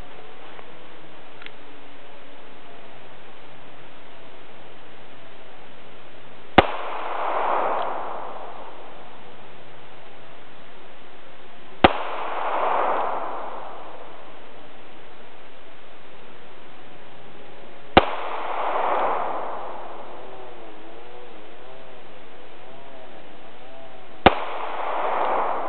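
Four sharp, widely spaced cracks from an NAA .22 Magnum mini revolver fired outdoors, each followed by a short rolling echo, with quiet between shots.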